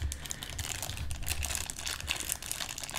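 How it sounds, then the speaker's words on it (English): Close, crisp crinkling and rustling of packaging while an NES Classic Edition is unboxed, with quick, continuous handling noises and no talking. "Usually I'm not into crinkling sounds with ASMR videos, but this sounds pretty good."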